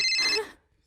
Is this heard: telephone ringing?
yes